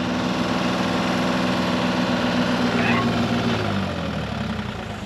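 A mini excavator's diesel engine runs at full throttle close by, a loud, steady drone with a strong low hum that holds throughout and eases off slightly near the end.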